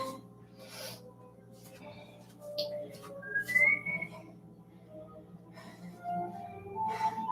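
Someone whistles in short, soft bursts, including a brief rising note, with breathy sounds around it in a quiet room.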